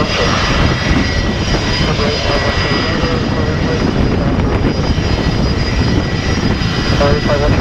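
A Gulfstream GIV-X private jet takes off on a wet runway, its loud, steady engine roar filling the whole stretch with a broad, continuous wash of noise and spray hiss.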